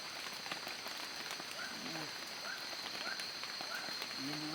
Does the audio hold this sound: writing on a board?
no